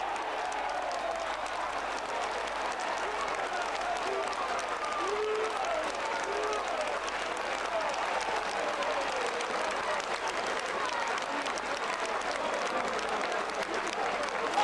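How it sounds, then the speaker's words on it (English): Home football fans give a standing ovation at half-time in a Burton Albion match against Gateshead, a sustained roar of applause and crowd noise that holds steady and loud throughout, with no clear voices above it. "A standing ovation from the home fans, and it's only half-time."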